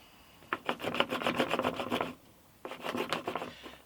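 A magnetised chisel is scraped repeatedly in a single direction, making two close bursts of rapid rhythmic scraping strokes separated by a short pause.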